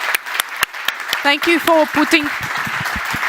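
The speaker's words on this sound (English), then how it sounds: "This is your applause." Audience applause at the GLOBSEC 2022 conference: scattered, crisp claps continuing while a speaker begins talking over them.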